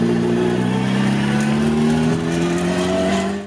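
Volkswagen racecar with a close-ratio racing gearbox, engine roaring loud and steady as the revs climb and the pitch rises through the gears, heard from inside the car.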